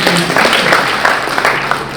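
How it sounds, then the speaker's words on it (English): A church audience claps for Jesus, a brief burst of dense clapping at moderate loudness with faint voices mixed in. "Clap for Jesus."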